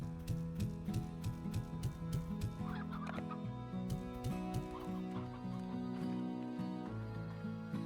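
Stone chickens in the Slime Rancher video game cluck and squawk in quick repeated bursts, near and clear, over a steady layered musical backdrop.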